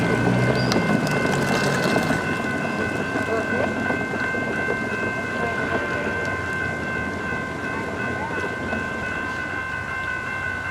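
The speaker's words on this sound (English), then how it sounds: "We have a train coming, and so you know you're gonna see a little bit of noise." A train passes close by, making a loud, continuous rumbling roar with steady high whistle-like tones above it, sustained across the whole stretch with little change in level.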